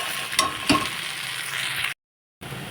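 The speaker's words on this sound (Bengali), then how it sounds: "এখন কিন্তু খুব ভালো করে আমি নাড়বো।" Spices and salt sizzle in a hot cooking pan as they are stirred, with a couple of sharp scraping strokes of the spoon over a soft steady frying hiss, then a brief gap.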